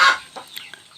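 Free-range village chickens cluck nearby, one loud cluck at the start followed by a few softer scattered clucks and chirps.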